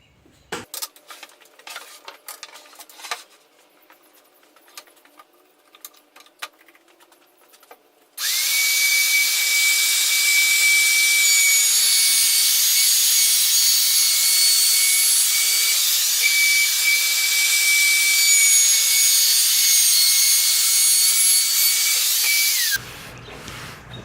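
A power sander runs steadily on the edge of a cherry wood kitchen table for about fifteen seconds, loud and close, with a high whine, preceded by quiet handling noises and cutting off abruptly.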